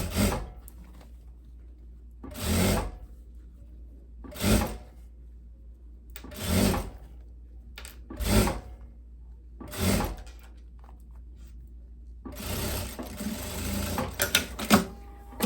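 A sewing machine stitches a long viscose dress in short bursts that repeat roughly every two seconds, then runs longer and more unevenly near the end, with quiet pauses between bursts.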